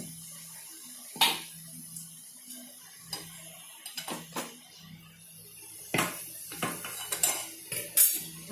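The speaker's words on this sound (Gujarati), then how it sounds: "હવે આપણે ગેસને બંધ કરશું અને એને પેનને નીચે ઉતારી લઈશું." Metal pan lifted off a gas stove after sautéing onions, with a few sharp clinks and scrapes of metal against the burner grate spread across the stretch, fairly close and otherwise quiet.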